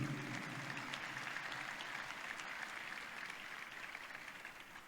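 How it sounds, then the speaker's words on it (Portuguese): Faint, distant applause from the audience at the opening ceremony of the XXIII Conbrace and X Conice conference, a steady wash of clapping that holds evenly for about five seconds. "a quem eu peço uma salva de palmas"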